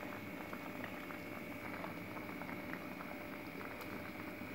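Orange peel simmering in a pot of boiling water gives a faint, steady bubbling and light patter, continuous and unchanging throughout the short stretch.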